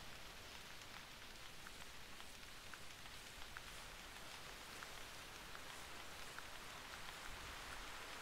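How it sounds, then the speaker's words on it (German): Rain patters steadily in the hunting game theHunter, a dense, even hiss of drops with faint scattered taps, quiet and continuous throughout. "Jetzt fängt es an zu regnen."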